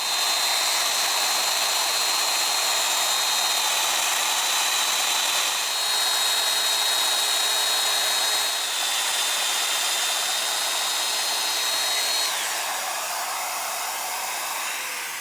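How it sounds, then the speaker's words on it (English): A Festool Domino joiner held vertically cuts mortises into wooden sawhorse legs, giving a loud, steady high-pitched motor whine that holds for about fifteen seconds with only slight shifts in pitch and no talking. "now we're going to use the domino in the vertical position"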